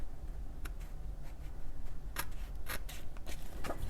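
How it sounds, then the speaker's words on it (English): Scissors snipping leftover paper scraps at a craft table, several crisp, close cuts at irregular intervals against low background noise. "So I can just take my scissors and just trim those to match"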